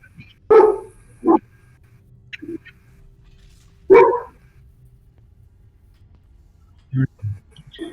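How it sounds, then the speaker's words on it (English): A dog barks in the distance during a tabletop role-playing session, a few sharp separate barks spaced out over several seconds, with quiet room noise between them. "Can you guys hear that dog?"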